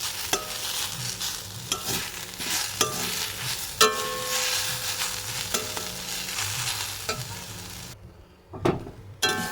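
Potato stuffing cooking in a pan, a continuous frying hiss broken by repeated spoon scrapes and clacks against the pan, close and fairly loud, with a short quiet gap near the end.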